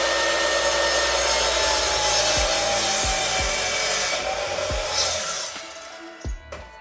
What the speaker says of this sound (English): and then I can start cutting slats.